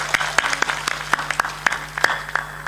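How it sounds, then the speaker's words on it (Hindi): Audience applause at a Hindi talk, a loose scatter of sharp individual claps in an irregular rhythm, moderately loud and fairly close, with a steady low hum underneath. "ताली जोर से बजा दिया करो।"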